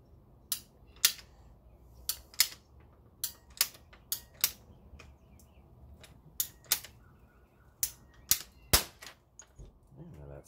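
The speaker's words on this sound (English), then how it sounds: "These PVC cutters are fantastic, much better than using a saw." Sharp, loud snaps from PVC pipe cutters biting through plastic pipe while replacing a backflow preventer, arriving in irregular bursts of single clicks and quick pairs over quiet room noise.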